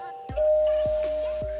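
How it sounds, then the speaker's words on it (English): A doorbell sound effect rings out with a sustained, steady chime tone, accompanied by a few soft low thumps, clear and alone with no talking. "the doorbell rings"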